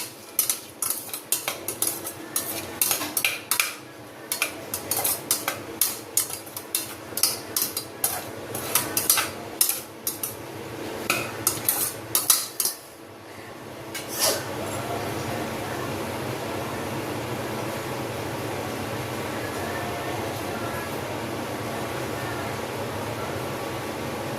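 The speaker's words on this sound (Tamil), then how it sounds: "வெங்காயம் நல்லா வதங்கட்டும், நம்ம பார்க்கலாம்." Onions with salt sautéing in a pan for peas biryani, with a metal spoon clattering and scraping in quick bursts, then giving way to a continuous steady sizzle for the last ten seconds.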